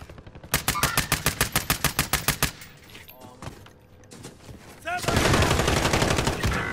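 Rapid automatic gunfire from a Call of Duty Warzone Halloween match rattles in steady bursts, pauses briefly, then returns as a dense, loud volley near the end.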